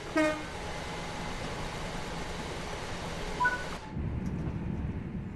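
A train in the video game Train Sim World 5 rumbles steadily along the track, with a horn tooting at the start and again briefly near the end, before the sound drops to a duller noise.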